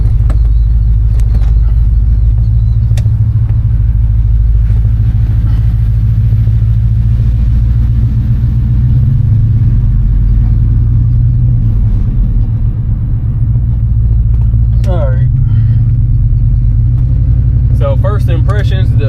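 A 1988 Chevrolet Silverado 1500 truck with a turbo 400 transmission drones steadily while driving, its loud, low engine rumble holding constant throughout with faint rattles and clicks on top.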